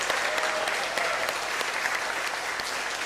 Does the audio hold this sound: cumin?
no